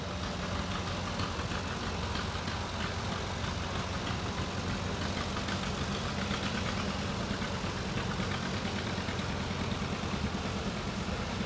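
A 1952 Massey Harris 44 tractor idles in a parade, its engine throbbing in a steady, even rumble that runs unbroken for the whole stretch, with no voices over it.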